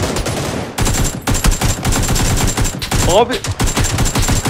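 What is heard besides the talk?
gunfire from the video game PUBG, teammate shooting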